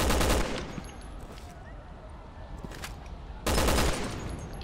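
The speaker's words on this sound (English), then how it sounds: "You're shooting the wall." Rapid automatic gunfire from Resident Evil 6 hammers into a wall, a loud burst at the start and another near the end with quieter game ambience between.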